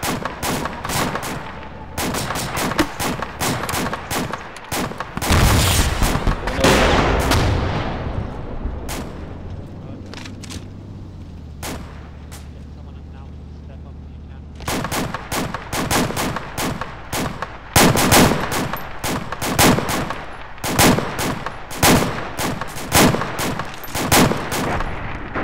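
Self-propelled gun firing in Arma 2 amid heavy battle, loud booming shots and rapid crackling gunfire in dense bursts, a deep rumble in the middle stretch, voices over radio at times.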